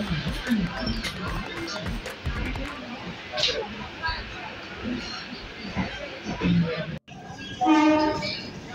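The 12279 Taj Express rumbles along between Agra Cantt and New Delhi, a steady rolling din with clattering bursts and people talking throughout. A loud train horn sounds near the end.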